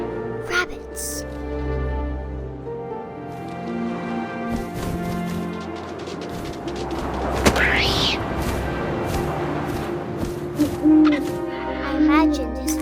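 An owl hoots in the video game What Remains of Edith Finch, blended into a dense bed of game music and ambient sound that runs throughout.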